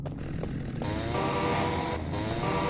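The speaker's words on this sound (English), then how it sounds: "chainsaw!" A chainsaw in a horror-style video game roars steadily at close range, a sustained buzzing engine drone that lasts the whole moment without speech.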